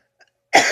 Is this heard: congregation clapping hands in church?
no